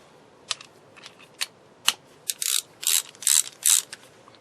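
A vintage ratchet wrench clicks as its direction lever is flipped back and forth, with a series of sharp, close metallic clicks and snaps that grow louder and more frequent toward the end, with no talking.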